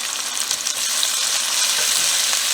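Onion and vegetables sizzle steadily in a pan on a stovetop, a continuous close, bright frying hiss with faint stirring, no voices.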